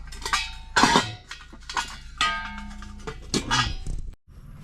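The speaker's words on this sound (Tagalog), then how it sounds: "Tapos takpan natin ulit mga idol." A lid set onto a cooking pot of mangagat fish soup, giving several close metallic clinks and clanks in an uneven burst, with brief quiet between them.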